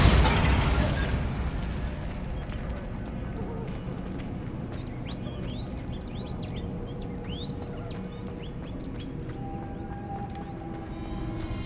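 A Bombarda spell explosion in the wizarding game Hogwarts Legacy bursts loudly at the start and fades over a couple of seconds. Quieter ambient chirps and a low rumbling background follow.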